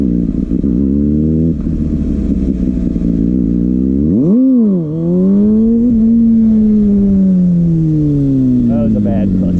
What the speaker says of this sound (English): This bike's so fast.